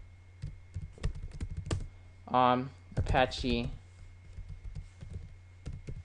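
Computer keyboard typing at close range, a steady run of clicky keystrokes with someone speaking briefly in the middle.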